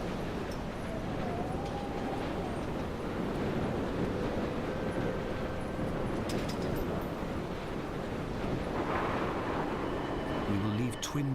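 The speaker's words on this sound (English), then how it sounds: "Pretty windy up here." Wind blowing on a cliff in the video game Dear Esther, a constant gusty roar that stays full and steady throughout, with faint rumbling and scattered small clicks near the end.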